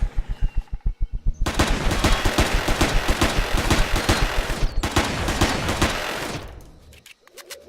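Sustained automatic gunfire from an enemy ship in the space survival game Empyrion Galactic Survival, loud rapid bursts hammering almost continuously with a brief break, then cutting off.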